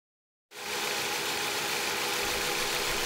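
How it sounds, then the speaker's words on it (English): A wood-frame 2x72 belt grinder starts up after a brief silence and settles into a steady, close whirring drone with a rough motor hum, running at partial speed. "And here is the fully completed belt grinder."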